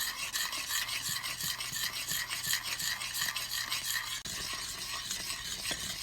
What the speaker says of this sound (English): now it's starting to boil. You want to make sure you're stirring it constantly.